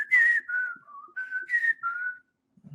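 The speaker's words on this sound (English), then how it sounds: "If only I could whistle today." A person whistles a short melodic tune of clear, sustained notes, several phrases rising and falling with brief gaps, close and alone.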